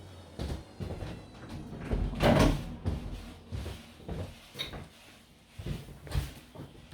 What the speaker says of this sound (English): just let me shut this door